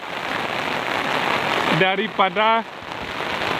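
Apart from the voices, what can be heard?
heavy rain falling in village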